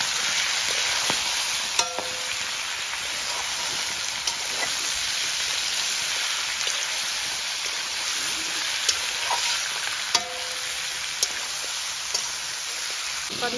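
Chicken pieces sizzling in a pot for an oil-free Assamese boiled chicken dish, a steady hissing frying sound with occasional clinks and stirring knocks, close and continuous without talk.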